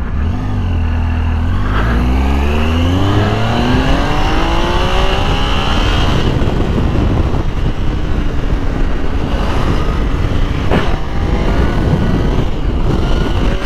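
A Triumph Tiger 800 motorcycle rides through city streets, its engine loud and close as it revs and accelerates through rising gear pulls, then settles into a steady roar with wind rush; the bike is low on fuel and hesitates when picking up speed.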